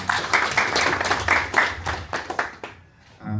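An audience at a diaspora advisory committee inauguration in Brussels applauds a professor, with loud, fairly sparse individual claps for about two and a half seconds before they die away.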